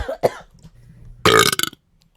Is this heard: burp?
yes